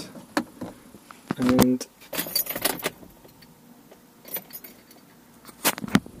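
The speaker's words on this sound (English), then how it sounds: "I'm just going to put the stereo in. It clicks," Car stereo head unit being pushed into the dashboard of a Vauxhall Combo / Corsa C, with sharp plastic clicks and handling knocks, brief scrapes and taps under a few spoken words.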